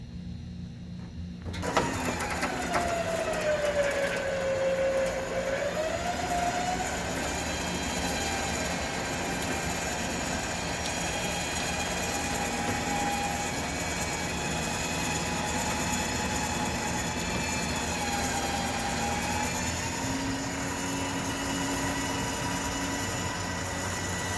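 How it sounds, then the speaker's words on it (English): A Harbor Freight ZXR 12,000 lb electric winch runs steadily at close range with a continuous whining motor drone that shifts pitch early on and then holds even throughout, with no voices. "Okay, the Harbor Freight feels quite a bit slower than the Smitty."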